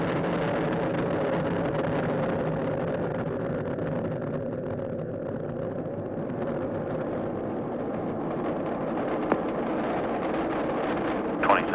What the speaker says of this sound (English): Liftoff of Atlantis. A new orbiter joins the shuttle fleet, and it has cleared the tower.